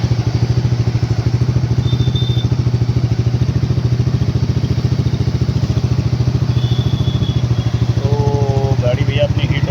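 Bajaj Dominar 400 motorcycle running with a half exhaust: a loud, close, rapid thumping engine beat at a steady idle, with brief beeps and a short burst of chirpy sound near the end.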